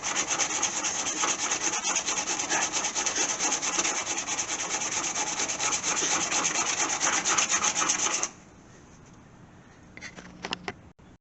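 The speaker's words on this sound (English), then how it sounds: "We've got her sanded pretty good." Hand sanding of rust spots on the body of an AMC Gremlin, a close, steady scratchy rubbing that continues for about eight seconds, then stops abruptly, leaving a quiet room with a few faint knocks.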